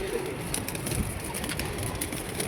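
A pigeon coos nearby in a soft, rounded call amid a steady background hiss, with other birds faintly present and no talk over it.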